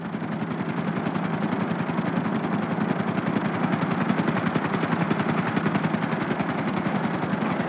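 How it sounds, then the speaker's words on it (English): Two helicopters in the video game Grand Theft Auto V fly toward a train, a steady loud rotor thump with fast regular chopping pulses over a dense engine roar, constant throughout. "There's two choppers coming toward my train."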